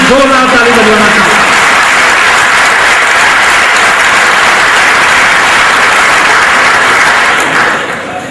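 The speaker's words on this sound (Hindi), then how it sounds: "मैं आप सबसे बिना कंजूसी किए लंबी ताली से इन तीनों बंधुओं के सम्मान में एक जोरदार ताली बजाना चाहूंगा" An audience at a speech event in Pune bursts into long, loud applause, a dense, sustained clapping from the crowd that fades out near the end.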